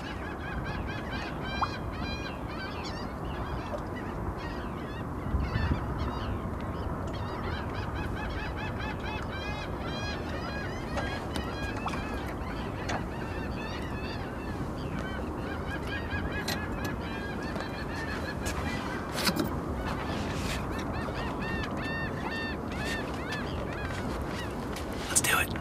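Geese honk continuously near a fishing spot in Orange County, a dense, raucous chorus of overlapping honks at moderate distance, steady throughout with faint background noise and no talk.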